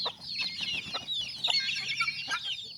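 Several chickens cluck and chatter close by in a dense, continuous overlapping chorus of short calls, with no voices.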